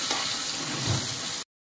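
Stuffed eggplants frying in oil make a steady bubbling sizzle with a soft stir partway through, then cut off abruptly into silence near the end.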